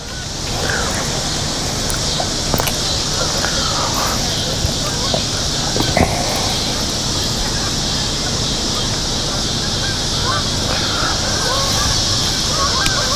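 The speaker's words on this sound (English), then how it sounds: "Geese keep flying back and forth." Geese honk repeatedly as they fly back and forth over the water where someone is fly fishing, their calls carrying over a steady rushing wash of flowing water with a few sharper knocks.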